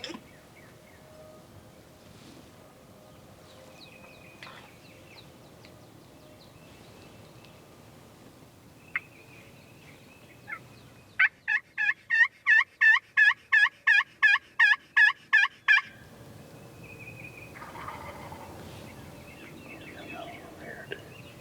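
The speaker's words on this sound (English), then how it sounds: "That's a gobbler," A wild turkey gobbler sounds off in a quick rapid burst of about a dozen gobbling pulses, fairly clear and mid-distance, surrounded by quiet outdoor ambience with faint birdsong and a whisper.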